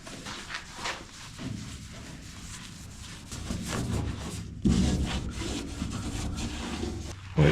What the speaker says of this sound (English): So I'm gonna wipe it down with some of that paint prep all stuff